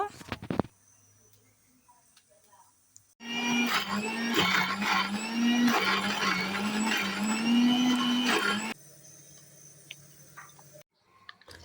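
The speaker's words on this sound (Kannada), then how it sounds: "ಫ್ರೈ ಮಾಡಿದ ಈರುಳ್ಳಿ ಟೊಮೆಟೊವನ್ನು ಮಿಕ್ಸಿಗೆ ಮಸಾಲೆಯೊಟ್ಟಿಗೆ ಸೇರಿಸಿ ಒಂದು ರೌಂಡು ರುಬ್ಬಬೇಕು" A kitchen mixer grinder whirs loudly while grinding fried onion, tomato and spices for a horse gram and radish curry, a steady motor whine lasting several seconds between quieter clicks and handling sounds.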